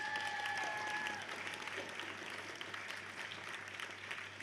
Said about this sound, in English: Round of applause for Ravensburger, our sponsor.